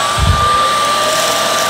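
A Shark Detect Pro cordless stick vacuum runs in auto detect mode, giving a loud, steady close-up whirring hum with a brief low thump near the start.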